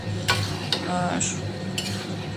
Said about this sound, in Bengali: তখন আমি এর মধ্যে কাঁচা লঙ্কাগুলো দিয়ে দেবো